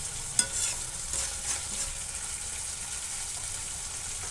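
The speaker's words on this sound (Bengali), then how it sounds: "এটা কিন্তু কাঁচা তেল না এটা মাছ ভাজার তেল এটা দিয়ে দেবো" Oil left from frying fish is poured over vegetables cooking in a pan, setting off a soft, steady sizzle with a small clink and light stirring early on.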